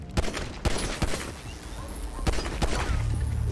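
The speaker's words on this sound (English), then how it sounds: "Shots fired." Gunfire in GTA 5 roleplay: a scattered burst of sharp, close shots cracks out at irregular intervals, several quick pops with brief gaps, over faint background game noise.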